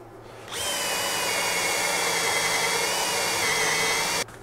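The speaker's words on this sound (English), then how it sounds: "using a Forstner bit, I'm going to put a hole in the plywood right here so this will sit in it." A power drill spins a Forstner bit into plywood, a loud, steady whirring drone lasting about four seconds that starts and stops abruptly, with no talking.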